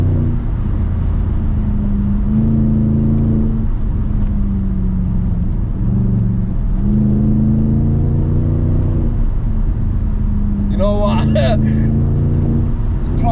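A 2006 BMW 550i E60 V8 sedan accelerating hard, the engine note climbing and swelling through the gears, loud and close from inside the car, with someone talking over it.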